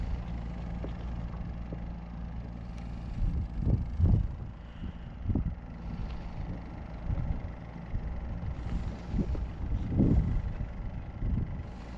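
Strong wind gusts blow outdoors at a fishing spot, a low, steady rumble buffeting the microphone with louder bursts rising and falling throughout, and no one speaking.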